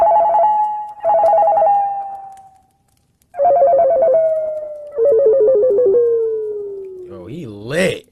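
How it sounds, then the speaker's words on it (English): A cell phone rings loudly in repeated trilling bursts with short gaps between them, ending in a warbling electronic flourish. "I remember hearing my cell phone ringing throughout the night."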